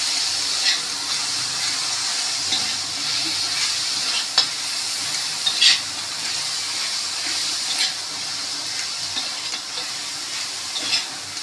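Agri masala roasting in a pan for a bean curry, a continuous bright sizzle with occasional stirring scrapes and clicks, close and steady with no talk.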